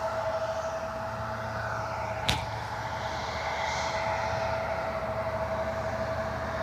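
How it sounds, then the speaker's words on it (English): A US Navy aircraft passing overhead unseen in haze near Cleveland Hopkins airport, a steady distant engine drone with a faint whine, broken by one brief sharp click midway. "The Navy flight. Don't see it though. I hear it."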